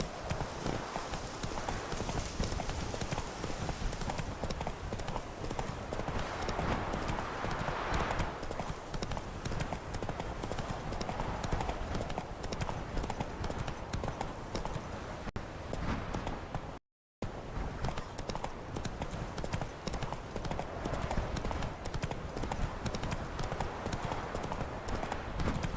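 Horse hooves clip-clop at a steady galloping rhythm in the open-world video game The Witcher 3: Wild Hunt, loud and continuous throughout.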